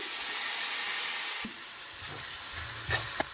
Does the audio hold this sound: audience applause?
no